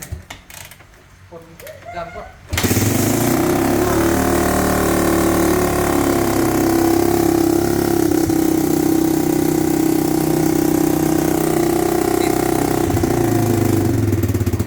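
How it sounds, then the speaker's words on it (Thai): A Honda XR250 motorcycle engine starts after a couple of seconds of quiet handling noises, then idles loudly and steadily up close with a strong low throbbing drone and slight revs. "ฟังเสียงเครื่อง"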